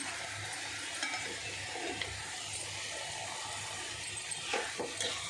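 Tomato curry with chili powder being stirred in a pan, a soft continuous sizzle with faint scraping of a spoon, quiet and close.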